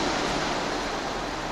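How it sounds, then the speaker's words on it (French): Surf breaks along the shore by the Promenade des Anglais in Nice, a dense, constant wash of rushing water, loud and close with no clear gaps. "principalement là c'est le ressac."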